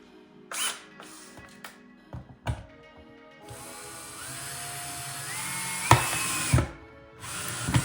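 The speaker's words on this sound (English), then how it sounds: "take a fairly large wood screw and drill it into the rubber" A power drill drives a fairly large wood screw into the rubber seal of an old Makita battery pack. A few clicks and clunks come first, then a rising, whirring motor whine with sharp bursts, close up.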